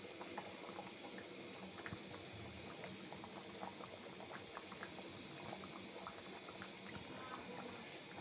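Rice boiling in a pot on a home stove, a steady soft bubbling and simmering hiss with scattered small pops, continuous and fairly quiet, no talking.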